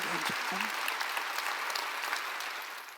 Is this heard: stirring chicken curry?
no